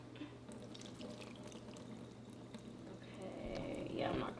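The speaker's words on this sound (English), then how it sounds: "we're gonna drain all the water out" Hot pasta water pours from a pot into a sink during home cooking, a faint trickle that swells into a louder rushing splash near the end.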